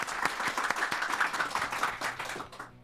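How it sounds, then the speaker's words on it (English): An audience applauds steadily at the close of a marketing podcast interview, a dense wash of many hands clapping that holds for a couple of seconds and then tapers off. "Big round of applause."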